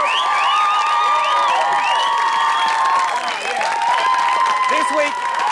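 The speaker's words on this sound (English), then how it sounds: "OK, cue applause," A television talk-show studio audience breaks into applause on cue, a dense, steady wall of clapping with whoops and whistled cheers riding over it for the full stretch.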